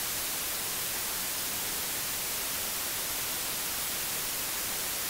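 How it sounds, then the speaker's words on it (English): Steady, hissing broadband white noise from a hearing aid's tinnitus masking feature, like radio static, even and unbroken throughout, with no other sounds. "white noise"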